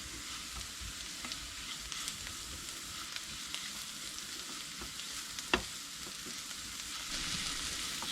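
Sliced onions, cooked past translucent with rock salt and chili flakes, sizzle steadily in a pan while being stirred, with soft scraping clicks and a sharp tap near the end; no talk.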